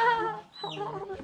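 A chicken in a rural Cuban village clucks at close range, giving two short, throaty calls separated by a brief pause.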